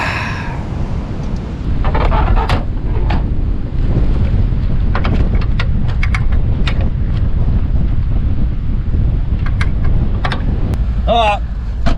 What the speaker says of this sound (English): She is windy outside at the moment.